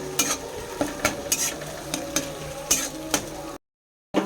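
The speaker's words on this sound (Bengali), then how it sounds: "এবার টমেটো অ্যাড করলাম, কাটা টমেটো অ্যাড করলাম।" Chopped tomatoes sizzle in a pan of fried onions for Bengali alur dom, with close, rhythmic scrapes of a spatula stirring every half second or so, then a sudden cut to silence.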